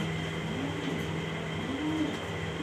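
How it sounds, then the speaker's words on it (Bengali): A female pigeon coos nearby, two soft low rolling coos spaced about a second apart over a steady background hum. "এই মাদি কবুতরটা"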